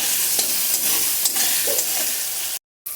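Steady sizzling of turmeric frying in hot oil, with a few soft stirring scrapes, continuous and close, ending in a brief moment of silence.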